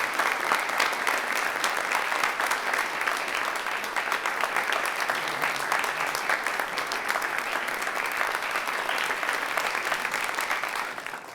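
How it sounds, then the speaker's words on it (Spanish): Sustained, loud applause from an audience at a televised interview program, a dense wash of clapping that holds steady for about eleven seconds before tapering slightly at the end, with no speech over it. "despidamos con un fuerte aplauso al señor Plutarco Asa."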